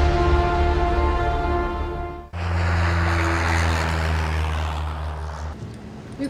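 A propeller airplane in flight in the Roblox game San Andreas disaster scenario drones steadily and loudly with a constant engine tone, briefly dipping before resuming a dense, roaring hum for several seconds.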